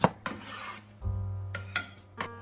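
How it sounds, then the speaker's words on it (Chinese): A knife shreds carrot on a cutting board as filling for Shanghai temple-style vegetarian duck, giving scraping, rasping strokes and a few firm taps close by, with no talking. "胡萝卜切成丝"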